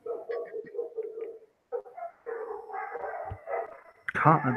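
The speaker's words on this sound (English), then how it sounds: "Dogs, calm down." Dogs bark and yip repeatedly amid a person's talking, the barking mixed in throughout and rising to a louder, close burst at the end.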